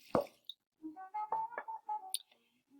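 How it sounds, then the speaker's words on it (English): Orange juice is splashed into challah dough: a single sharp pour and plop, followed by a series of soft wet clicks and drips in a quiet room. "Maybe I should put in a little orange juice, so give this a splash."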